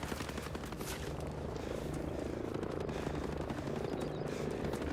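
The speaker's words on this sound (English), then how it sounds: "I don't think this helicopter understands the fight it's picking." An enemy helicopter in Ghost Recon Breakpoint gives off a constant loud rotor drone, mixed with dense bursts of gunfire throughout.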